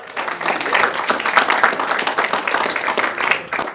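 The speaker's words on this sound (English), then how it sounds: "Have a round of applause for our next segment." Lively audience applause fills a comedy show, a dense burst of clapping that holds steady for a few seconds, with some voices mixed in.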